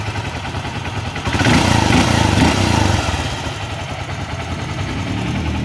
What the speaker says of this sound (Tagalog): So ito na yung kanyang makina. Tahimik na.